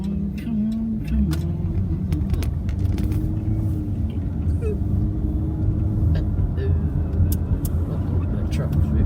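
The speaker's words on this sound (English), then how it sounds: "That truck's really bad." A truck drives close by in road traffic, heard from inside a car as a loud, continuous low engine rumble with steady road noise, with people talking over it.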